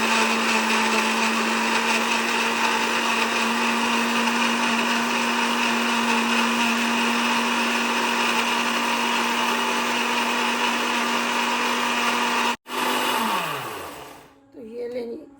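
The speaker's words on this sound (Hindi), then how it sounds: "इसको ब्लेंड कर लेना" Electric blender whirring steadily while blending papaya into juice, a loud constant motor drone that cuts off abruptly near the end and spins down, followed by brief clatter.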